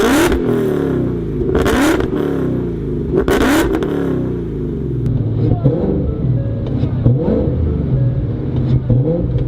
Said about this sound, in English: there's like a scream from the supercharger